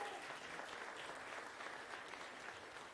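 Steady applause from an audience at an evening artist showcase, acknowledging a notary firm sponsor. Continuous, fairly faint clapping lasts about three seconds with no talk over it.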